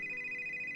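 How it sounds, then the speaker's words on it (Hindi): A telephone rings with a steady, bright electronic tone, fairly quiet and sustained without a break for under a second, with no one talking. "एक दिन मानव अपनी माँ को फोन करता है।"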